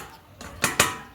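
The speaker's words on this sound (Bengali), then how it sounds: "ঢাকাটা আমি খুলে দেবো" Metal lid lifted off a cooking pot of chicken curry, a soft scrape followed by two sharp clinks close by, with no talking.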